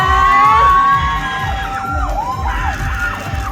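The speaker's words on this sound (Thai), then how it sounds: "ขอเสียงปรบมือให้กับเต้าอียครั้งหนึ่งนะคะ" A fan crowd at a subway station cheers and shouts with high excited voices, loud and close, the noise fading slightly after the first second.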